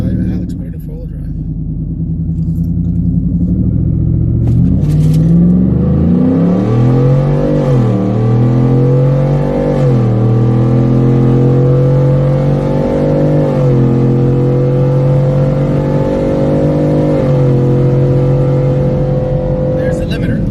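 A Ford F150 pickup with a drop kit and new cold air intake, running in four-wheel drive on a chassis dyno, revs up steadily and climbs to its rev limiter, a loud sustained engine roar with a voice briefly audible.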